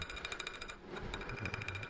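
Copper pins hammered into a kiridashi knife handle during the epoxy glue-up, a knife made from drill rod; rapid, steady metallic tapping repeats close by without pause.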